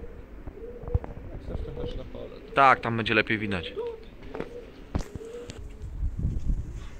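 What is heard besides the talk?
pigeons cooing at a market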